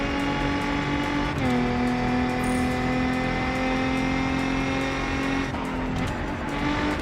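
A Bugatti Veyron Super Sport racing in Test Drive Unlimited Solar Crown: a loud, steady engine roar holds high revs and shifts pitch at gear changes, with faint tire noise and no voices.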